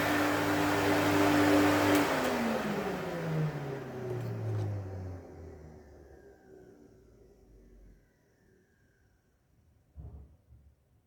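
A 1972 Electrolux Z310 vacuum cleaner with a cleaned-up motor, switched off and winding down, its hum falling steadily in pitch and fading to near silence over several seconds, followed by a brief faint knock.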